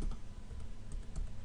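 A password is typed on a computer keyboard in a quick run of soft key clicks over a low background hum, close and fairly quiet.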